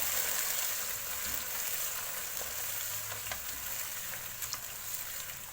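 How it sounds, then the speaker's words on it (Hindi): Chicken with yogurt, crushed chili and salt sizzling steadily as it fries in a pan, a constant close crackling hiss with a few faint stirring clicks and no voices. "यहाँ पे ये अच्छे से भून रहा है"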